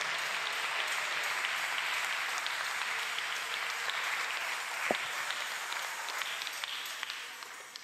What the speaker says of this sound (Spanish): Dele un fuerte aplauso de alabanza al Señor.